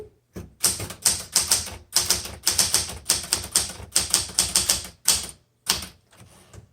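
Brisk typing on a 1978 Smith Corona Classic 12 manual typewriter: close, sharp clacks in fast, uneven bursts, separated by short pauses and a couple of heavier isolated strikes, with no talking.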